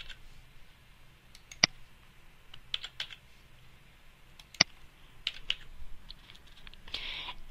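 Keys on a computer keyboard are tapped in short, irregular bursts of clicks while numerical grades are entered, with a few louder isolated strokes and a quick flurry at the end, close and clear in a quiet room.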